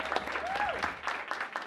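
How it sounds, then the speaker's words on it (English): Brief applause from attendees at a community meeting, a short burst of clapping heard fairly close with a voice briefly over it. "So just one more big round of applause for Madison."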